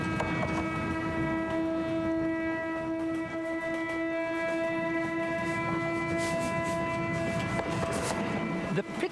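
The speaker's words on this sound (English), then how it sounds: "please note how the research assistants hear the note as the train approaches." A loud, sustained train horn sounding a steady multi-tone note as the train approaches, over the low rumble of rolling rail cars, nearby and continuous throughout.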